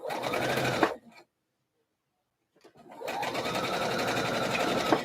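Sewing machine stay stitching the edge of a slip dress, a steady close whirring run that stops abruptly, leaves a short pause of near silence, then starts again and runs evenly to the end, with no talking.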